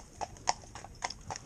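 Cob mare's hooves clip-clopping, a few separate light strikes at an uneven walking rhythm, fairly close and moderately loud with no talk over them.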